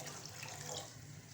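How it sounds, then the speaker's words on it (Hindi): Water pours steadily into a pot of haleem dal set on the flame, a soft continuous splashing trickle at moderate distance with no talking. "अब हम इसमें थोड़ा सा पानी और ऐड करेंगे"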